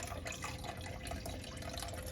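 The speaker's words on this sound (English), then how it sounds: "now I'm gonna put in half a cup of water" Water poured into a chicken tikka masala sauce, a steady liquid trickle and splash running continuously at close range with no talk over it.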